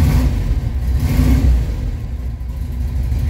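A Volkswagen Beetle 1600 engine revs steadily and loudly, holding a high, even pitch without dropping, close by with a constant low rumble.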